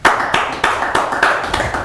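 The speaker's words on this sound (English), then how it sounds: "Can you clap for her, please?" An audience at a youth entrepreneurship talk claps for a speaker, a brief burst of brisk, loud applause with regular sharp hand strikes and no voices.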